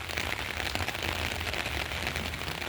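A big rainstorm drums down outside, a loud, unbroken hiss of falling drops with faint scattered taps, near and constant.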